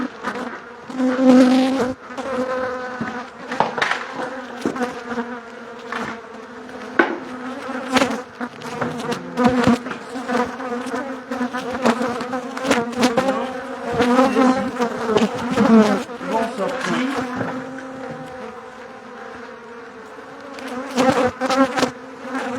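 Honeybees swarm and buzz loudly at a hive entrance as a selected colony is released, a dense continuous drone of many wings up close, pulsing with scattered knocks and bumps, no speech.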